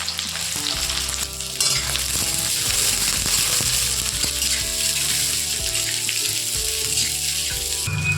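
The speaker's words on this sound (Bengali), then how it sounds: "এখন দিয়ে দেবো পেঁয়াজ" Onion dropped into hot oil, a loud sizzle bursting in after a brief lull and continuing steadily with utensil scrapes and clatter mixed in.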